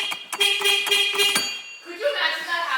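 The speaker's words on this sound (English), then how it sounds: "You go to crank the wheel, you start honking?" A Mazda RX-7 FD horn sounds in a quick series of short honks, then a longer, softer tone, set off by a faulty contact as the steering wheel is turned; close and loud.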